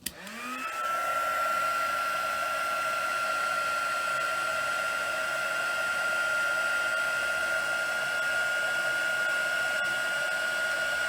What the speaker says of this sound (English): And then you're going to heat it with your heat tool, and you watch it puff up.